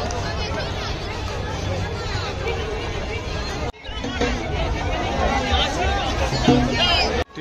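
A huge crowd at a Ganesh immersion procession in Lucknow fills the air with dense, continuous babble and chatter from many voices, close and loud, with a brief cut partway through.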